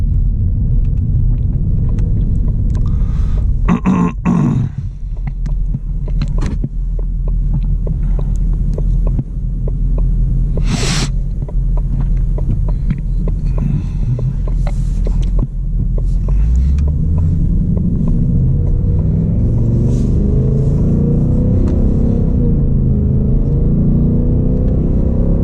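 Ford Mustang Mach 1 with the 10-speed automatic and Handling Package, driven at night under light throttle, gives a steady low engine rumble and road hum throughout, with brief shifts and a deeper swell near the end.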